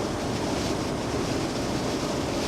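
Strong wind roars in a constant, dense rush, loud and unbroken from start to finish with no voices.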